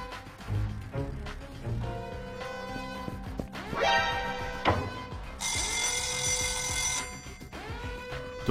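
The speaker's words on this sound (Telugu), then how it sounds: "నేను ఫైర్ అలారం కూడా మొదలుపెట్టా" A fire alarm rings with a harsh bell-like tone in an animated heist story, a loud sustained burst of ringing mixed among other electronic effects and tones.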